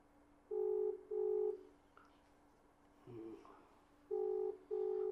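Telephone tones from a phone call placed to a party worker's widow: two pairs of steady electronic beeps, a pause with a faint blip, then two more beeps, moderately loud over a quiet background hiss.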